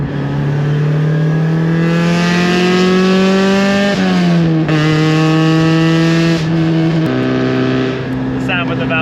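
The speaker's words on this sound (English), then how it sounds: "The sound with the valves open is grating on this, but it definitely shows the value in having the universal muffler." Mazda Miata with valved exhaust and universal muffler, valves open: loud engine revving up and down in rising and falling tones with shifts, close and continuous, and speech over it.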